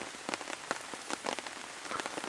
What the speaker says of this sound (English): The rain's beating down, it's quite soothing.